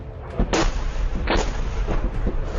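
An explosion in Ukraine rumbles as a series of heavy booms and blasts, loud and continuous.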